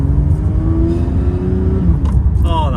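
A Porsche 911 ST engine hums steadily and close, its pitch rising slightly as it revs, with faint sounds of the cabin around it.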